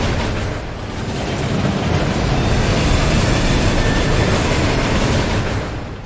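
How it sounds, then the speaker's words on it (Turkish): In the video game Murdered: Soul Suspect, a train thunders past on railway tracks in a loud, dense, continuous rumble that swells and then fades slightly at the end. "Lan ne tren yoluymuş kulaklıma bırakmadı."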